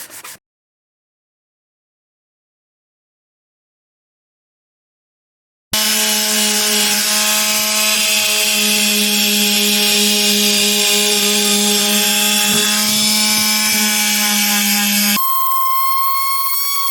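A 2012 Mercedes GLK X204 center console being sanded: after a long silence, a loud, steady whining drone runs for about nine seconds, then shifts to a thinner tone at the end.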